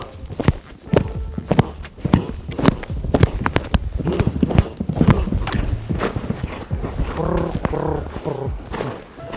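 A horse's hooves clip-clop steadily and close on an indoor cross-country jumping course, with brief snorting and a rider's voice heard now and then.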